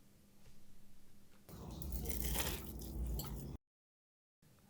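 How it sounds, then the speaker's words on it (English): Bites into crispy gluten-free coconut shrimp give close, crunchy crackling and chewing for a few seconds before cutting to silence, with no talking. "is that crunchy and crispy or what?"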